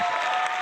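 A short burst of clapping, dense and even like a small crowd applauding, cutting off abruptly after under a second.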